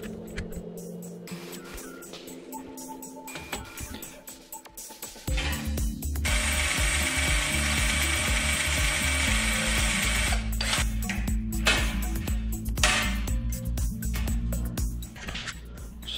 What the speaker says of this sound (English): So I'm going to rivet that on right there.